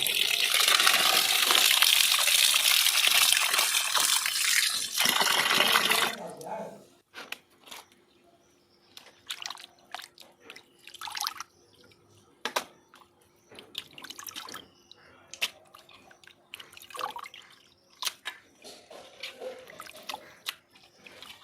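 Raw chicken pieces being rinsed under running water at home, a steady loud gush of pouring water for several seconds, then scattered drips, splashes and handling noises.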